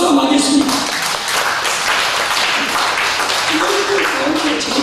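Congregation giving a big round of applause during a Sunday church service, sustained dense clapping filling the room for nearly five seconds, loud and close, with voices faintly audible beneath it.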